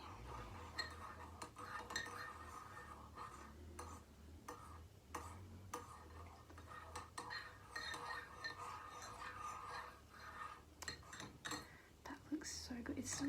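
A spoon stirs tea in a cup with soft clinks and scrapes of metal against ceramic, close and quiet, amid whispery ASMR handling sounds and faint murmuring.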